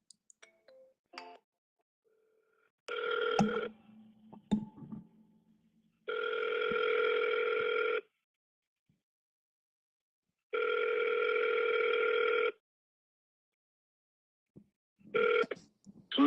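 A ringback tone sounds on an outgoing phone call, with long, evenly spaced buzzing rings separated by silence, and a few clicks and handling noises between them.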